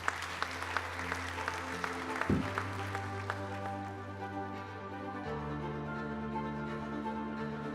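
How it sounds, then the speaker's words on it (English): Audience applause at the 30th-anniversary Gourmand Awards ceremony in Cascais, a steady wash of clapping held under sustained background music, moderately distant and even in level throughout. "Allez, big applause"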